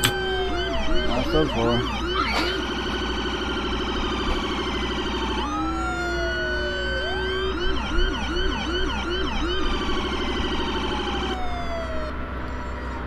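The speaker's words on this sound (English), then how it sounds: "I turn my sirens on when I'm going fast" Emergency vehicle sirens wail and yelp from a vehicle in motion, with several overlapping rising and falling tones and abrupt pattern switches, loud and close. A voice speaks briefly over them.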